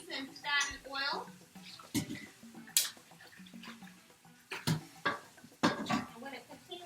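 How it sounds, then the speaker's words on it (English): A container is rinsed out with splashing water in a home kitchen while raw vegan passion cakes are prepared, short sloshing bursts under near, ongoing talk. "I'm just going to rinse it out quickly."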